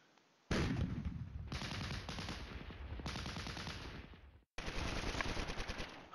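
Artillery fire in the Flashpoint Campaigns: Red Storm computer war game, sustained loud rapid bursts of gunfire in several long volleys broken by a brief gap, with no talk.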